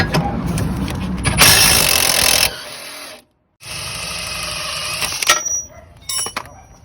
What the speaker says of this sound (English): we're going to go ahead and take this bolt off